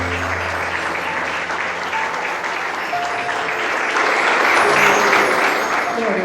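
A church congregation applauds in a steady, dense wash of clapping that swells slightly toward the end, with voices faintly mixed in.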